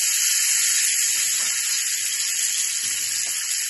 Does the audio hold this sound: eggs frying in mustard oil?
yes